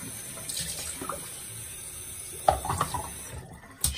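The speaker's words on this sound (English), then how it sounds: "I've got a little bowl here full of water. Just swirl it around, get all the soap out of it." Shaving brush swirled and rinsed in a small bowl of cold water to wash out soap, giving soft close sloshing and splashing that grows busier in the second half, with brief drips and clinks.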